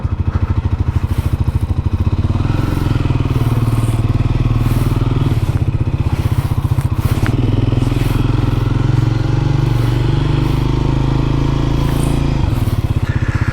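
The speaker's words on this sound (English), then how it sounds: "The nice smooth rumble of a 400cc single." A Triumph Scrambler 400 X single-cylinder motorcycle engine rumbles steadily and loudly throughout, with some mechanical clatter layered over the low, continuous drone.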